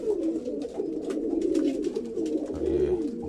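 Soft, continuous pigeon cooing, low and throaty, close by with steady murmuring rhythm and faint rustling; a Pakistani pigeon in Luton, UK.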